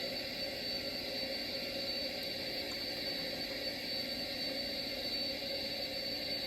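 A UPS Boeing 747-400BCF in the SimplePlanes video game makes a steady, even jet-engine roar at takeoff thrust, a continuous hissing whine with no break or change.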